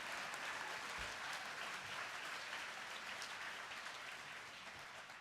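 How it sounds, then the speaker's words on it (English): At the 2025 Texas Film Awards ceremony, an audience applauds a film producer with dense, sustained clapping from a large crowd, heard at a moderate distance and fading gently toward the end. "Can we have another round of applause for our producer, Monique?"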